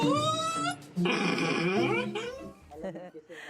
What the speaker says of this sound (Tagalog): isang aso na tila nagagalit sa tuwing sinasabi ang salitang ligo